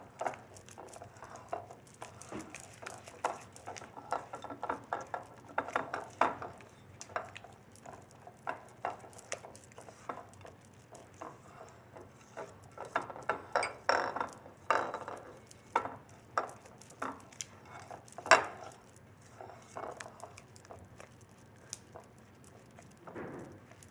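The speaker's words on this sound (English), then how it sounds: "now I'm gonna mix this together, the egg with the vanilla and the 3 ingredients that are in there already" Cream cheese, butter and sugar cookie dough being mixed with egg and vanilla in a bowl, heard as irregular soft squishing, scraping and clinking of a utensil against the bowl, close up and fairly quiet.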